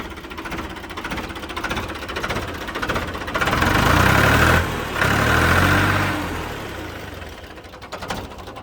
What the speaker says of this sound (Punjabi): ਆਵਾਜ਼ ਪੂਰੀ ਹੈ ਟਰੈਕਟਰ ਜਾਨ ਰੇਸ ਮਾਰੀ ਮਾਰੀ ਜੀ